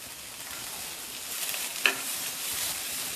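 Two large chopped onions with a little salt frying in oil in a pan for mushroom gravy, a soft continuous sizzle with a spatula scrape and stir partway through.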